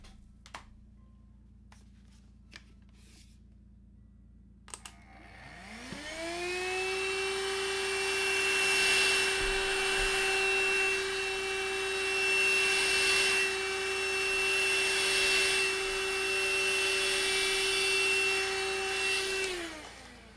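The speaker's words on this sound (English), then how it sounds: "just let me get the vacuum cleaner out" A household vacuum cleaner switches on partway through, spinning up to a loud, steady motor whine that drones on alone for about fifteen seconds before cutting off, with faint clicks before it starts.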